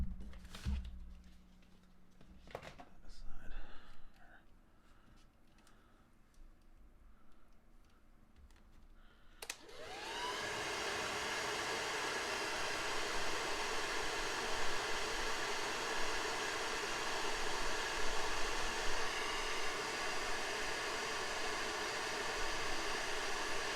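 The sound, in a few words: heat gun blowing hot air on a Transformers figure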